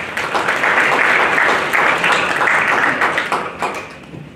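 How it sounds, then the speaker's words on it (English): Conference audience at a Chamber of Mines event in Zimbabwe applauding steadily and fairly loudly, a dense wash of claps that tapers slightly toward the end. "Mrs. Elizabeth Nemandeswana, to give us a round of applause"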